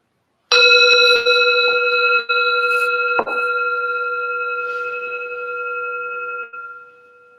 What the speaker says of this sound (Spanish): cuando dejes de escuchar el sonido que proviene de esta campana